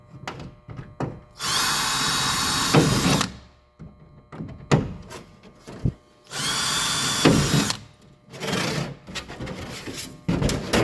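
A power drill bores two pilot holes for a patch on a bear-damaged canoe, with two sustained whining bursts separated by clunks, taps and handling noises, close by.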